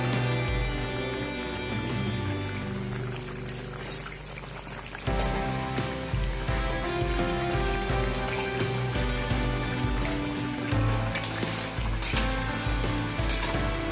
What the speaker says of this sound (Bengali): ঝোলটা কিন্তু খুব ভালোভাবে ফুটে উঠতে শুরু করেছে।